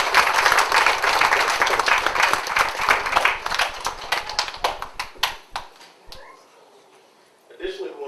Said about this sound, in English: let's just give a round of applause to all our educators.